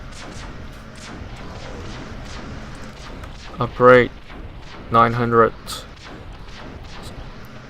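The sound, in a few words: cannon turret firing in video game Defense Task Force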